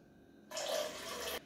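Water poured into Campari for blending, a short, steady pouring gush of about a second that starts and stops abruptly against a quiet background.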